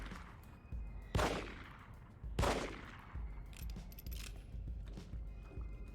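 Two loud gunshots about a second apart from The Evil Within, each a sharp crack with a trailing echo, fired at a body, with low rumbling ambience and faint mechanical ticks in between.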